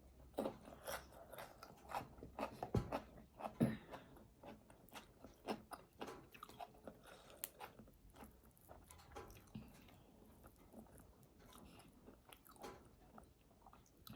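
Rice being chewed during a late-morning meal, with close, wet mouth sounds and small crunchy bites repeating irregularly throughout, fairly quiet and without talk.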